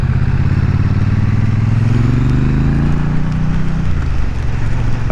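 A Triumph Bonneville T100 motorcycle engine roars steadily while riding in rain, with rising and falling revs and heavy wind rumble, loud and close.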